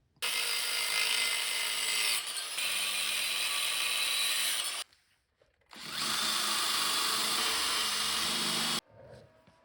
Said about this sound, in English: So I'm going to cut off these two sides and use this for the transaxle mount.